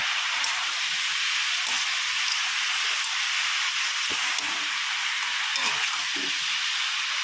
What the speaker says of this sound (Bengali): ভেজে রাখা বড়িটা দিয়ে দেবো।